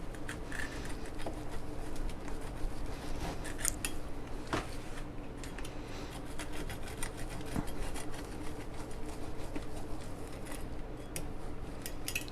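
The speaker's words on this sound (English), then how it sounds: "I'm just going to use a regular pizza cutter." A regular pizza cutter rolls through a cooked squash dish on a board, giving soft scraping and clinking strokes against a steady kitchen background.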